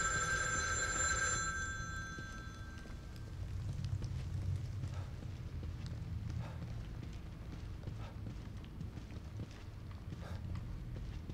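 A telephone rings in the video game The Evil Within 2, a loud bell trill for about a second, then fading into quiet ambience with footsteps and soft rain.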